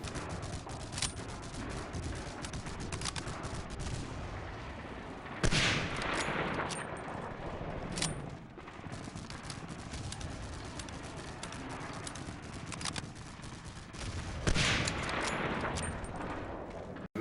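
Gunfire from Medal of Honor: Allied Assault around MG-42 machine-gun nests, with dense crackling shots running throughout, a few louder heavy bursts standing out, and a busy battlefield din beneath.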